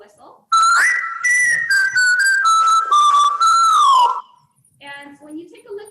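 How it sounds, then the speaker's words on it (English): Vocal whistle sample loop in a beat: a bright, loud whistled melody in several held, slightly gliding notes lasting about four seconds, followed by a softer short phrase. "This is the vocal whistle."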